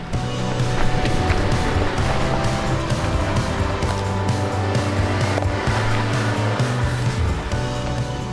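A Cannon Alpha PHEV 4WD plug-in hybrid crawls over dry rocks on an off-road track, a steady low drive hum with tyre crunch and scrabbling over stones, close and continuous throughout.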